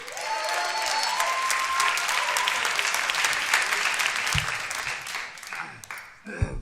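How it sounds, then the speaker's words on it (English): Dense, sustained applause from a comedy-club audience for a stand-up comedian, steady and loud for about six seconds before tapering off at the end, with a few scattered claps lingering. "Give it up for Ben Roy, everybody."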